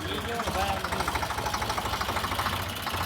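A heavily overloaded tractor hauling sand reverses, its engine giving a steady, close, throbbing rumble with a knocking pulse throughout, while voices talk over it.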